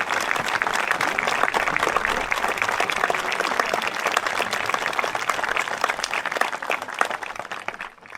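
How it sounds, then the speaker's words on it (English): A graduation crowd at Hohenfels applauds the students' families with steady, dense clapping that fills the whole stretch, loud and continuous, thinning slightly only at the very end. "Let's give these families a warm applause"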